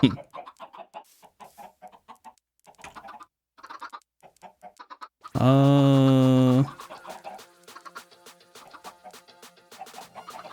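Chickens cluck in scattered short bursts in the farming video game Slice of Pi 2, broken midway by a loud sustained tonal blast lasting over a second, then a buzzy patterned hum under further clucks.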